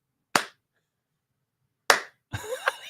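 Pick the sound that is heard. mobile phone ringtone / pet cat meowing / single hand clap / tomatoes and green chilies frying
single hand clap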